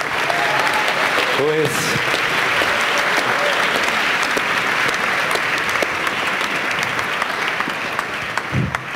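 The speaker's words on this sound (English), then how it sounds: "And give an applause to Jimmy," Applause from a conference audience fills the whole stretch as Jimmy Wales is welcomed on stage, dense and steady, with a brief word spoken over it.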